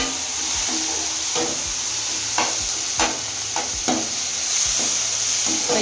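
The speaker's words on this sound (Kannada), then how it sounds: "ಎಣ್ಣೆ, ಈರುಳ್ಳಿ, ಸಾಸಿವೆ, ಕರಿಬೇವು, ಟೊಮೊಟೊ ಇಷ್ಟು ಚೆನ್ನಾಗಿ ಫ್ರೈ ಆಗ್ತಾಯಿದೆ." Onion, mustard seeds, curry leaves and tomato fry in hot oil with a steady, dense sizzle, while a spoon stirs the pan with soft scraping strokes roughly once a second.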